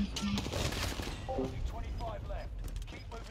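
Video game gunfire from pistols and a machine gun, rapid overlapping shots and mechanical clatter running steadily under mixed game sounds and voices.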